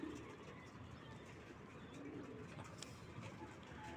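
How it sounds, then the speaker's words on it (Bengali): Domestic pigeons, including a Silver Racer, coo softly at a home loft during morning feeding. Low murmuring coos repeat over a steady hiss of background noise. "এই যে আমার বাসার সুন্দরী কবুতর"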